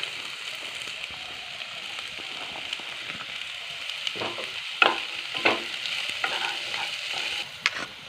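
Ginger and carrot stir-fried in a pan as filling for vegetable spring rolls: a steady sizzle with scattered spoon scrapes and clacks against the pan, close by, with no talking.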